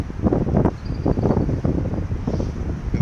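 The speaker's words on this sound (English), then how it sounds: "it's a windy day today. You can probably hear it too" Strong gusty wind buffeting the microphone in a forest with a steady rumbling roar, rising and falling in bursts throughout.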